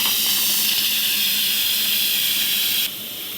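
Steam hisses steadily from an Instant Pot valve during quick release after pressure cooking, a loud continuous close-up rush that drops slightly in level just before the end.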